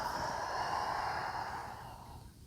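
A slow, steady exhale during a gentle yoga flow focused on joint mobility, a soft airy breath sound lasting a couple of seconds and fading gradually, close and quiet with no talking.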